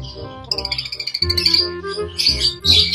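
Lovebirds chirp rapidly and shrilly nearby, a fast rattling trill followed by bursts of overlapping high-pitched chatter.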